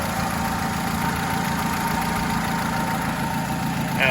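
Close Honda City engine idling, a smooth continuous low hum with a faint rhythmic pulse, steady from start to finish.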